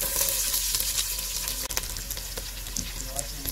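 Sliced onion and a few garlic cloves sizzle and fry in hot oil in a pot for Balochi sajji masala, a steady close crackling hiss with occasional stirring clatter and no talking.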